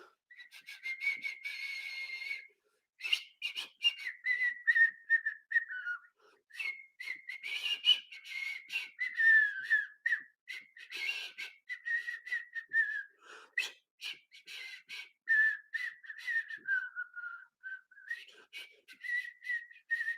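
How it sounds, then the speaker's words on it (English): Someone whistles a melody close up, with clear warbling phrases that rise and fall in steady bursts separated by short breaths, fairly soft and alone. "will you whistle us one last song before the implants?"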